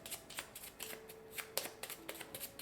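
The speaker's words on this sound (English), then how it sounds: "we are going to shuffle." Playing cards being shuffled in a quiet room, repeated soft riffling bursts and slaps in a quick uneven rhythm, close and fairly faint, with no talk.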